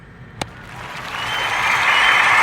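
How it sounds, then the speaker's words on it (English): Live audience at a talk show applauding, starting with a single sharp clap, then a dense crowd of clapping swelling steadily louder until it fills the room. "Thank you for your applause."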